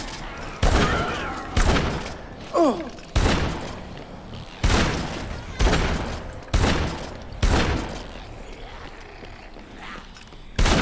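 Gunfire from a weapon in Dead Rising 3, with about nine sharp, loud shots spaced roughly a second apart, each followed by a short decaying tail.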